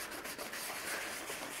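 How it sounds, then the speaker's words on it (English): Sandpaper lightly scuffs a leather seat being prepared for tear repair, a soft, steady rubbing hiss with quick back-and-forth strokes, close and unaccompanied. "I'm just going to lightly sand this"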